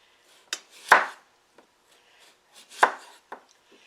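A knife chopping medium potatoes on a board, a few sharp, close thuds spaced irregularly with quiet gaps, two of them noticeably heavier, and no voices.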